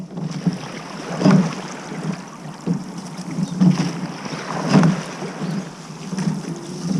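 Rhythmic soft splashes of oar blades entering water, roughly every second or so, over steady wind and water noise from a moving rowing eight during masters training.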